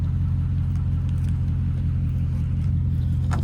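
A V8 4x4 vehicle drives along, its engine a steady, close, low rumble that holds even throughout, with no talk over it.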